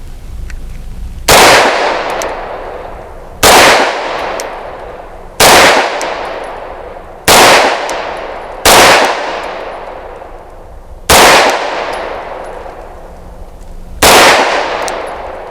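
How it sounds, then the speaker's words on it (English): A handgun fires defensive ammunition: seven loud, close gunshots, each a sharp crack with a ringing tail, spaced about two seconds apart. "Let's give Teya another 10 rounds"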